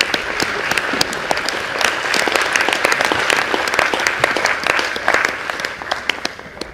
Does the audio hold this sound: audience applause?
yes